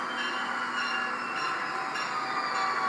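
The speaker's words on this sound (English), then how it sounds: "And listen to the horn." O gauge model train horn on a layout, a steady sustained tonal blast held throughout at moderate loudness, with no talking.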